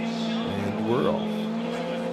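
Drift race cars launch together at Fuji International Speedway in Japan, engines roaring loud and steady with a rising rev sweep near the middle and a faint tire squeal, under continuous crowd and track noise.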